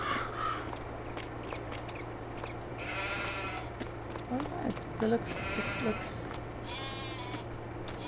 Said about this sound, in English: Let's check the sheep.